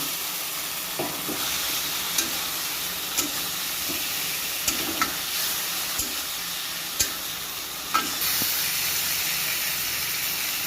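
Spice masala with turmeric and salt sautéed in a pan for an egg curry, giving a continuous close sizzle and steamy hiss marked by occasional sharp taps of a spatula on the pan, with no voices.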